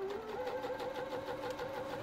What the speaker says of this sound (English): So I can sew as fast as I want to.